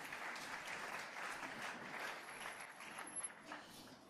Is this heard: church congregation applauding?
yes